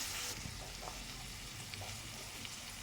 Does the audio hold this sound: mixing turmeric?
yes